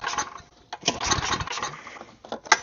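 A non-starting snowblower engine is cranked over and over, giving short uneven mechanical bursts and sputters that are fairly quiet and close, with no voices.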